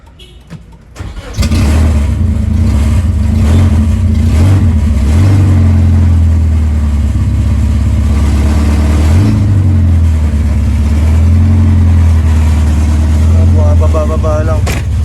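Bajaj Pulsar motorcycle engine starting after a brief click, then running loud and close with rising and falling revs during an instrument cluster check; a voice speaks over it.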